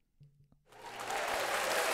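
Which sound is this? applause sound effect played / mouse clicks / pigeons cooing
applause sound effect played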